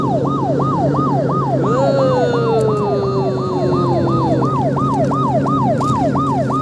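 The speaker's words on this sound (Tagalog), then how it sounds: "Ambulansya sa dagat." A loud siren from a sea ambulance boat wails in a rapid, steady up-and-down pattern throughout, with an engine hum underneath and a falling tone passing midway.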